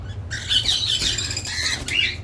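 Sharp, chattering squawks from a lovebird fill a busy aviary, several raspy calls overlapping close by over a steady low background hum, with a brief flurry of brighter cries near the end.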